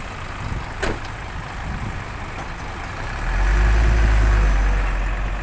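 Heavy dump truck and tractor engines straining while stuck in mud: a continuous rough engine roar with a deep low rumble that swells louder midway, plus a couple of sharp clanks early on.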